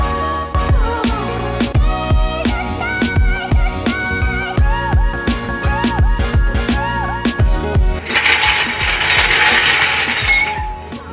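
A ratchet clicks in repeated quick bursts while the brake caliper is fitted back onto a Husqvarna 701 motorcycle after a front tyre change, close and loud, followed by a brief hissing spray-like noise near the end.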